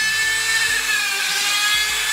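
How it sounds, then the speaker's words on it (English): A high-pitched Dremel rotary tool with a sanding drum whines steadily up close, grinding against EVA foam with slight shifts in pitch as it presses in. "if you just use a sanding drum on a Dremel and press down"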